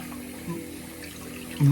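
Hot water runs from a tap as a steady, soft splashing flow with a faint low hum, fairly close, briefly swelling louder near the end.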